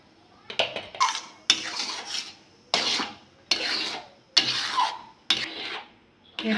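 A spatula repeatedly scrapes ripe mango pulp around a pan while making aamsotto, rhythmic rasping strokes roughly every half second to second, close and fairly loud, with no talking.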